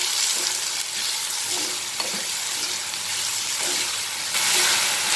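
Tomatoes frying in a pan for Amritsari paneer bhurji, a dense, even hiss of sizzling that runs throughout, close and fairly loud, with faint stirring touches and no voices.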